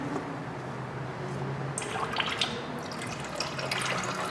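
Engine oil drains from a Saturn S Series into a catch pan. A faint, steady trickle of dribbling liquid sits over a low background hum and grows slightly busier with splashy drips toward the end.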